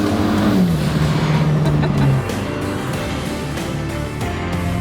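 A Ford Sierra Cosworth with a tuned 485 HP engine and two-wheel drive roars loudly up close, its pitch climbing under throttle before dropping sharply partway through, then holding a steady, heavy drone.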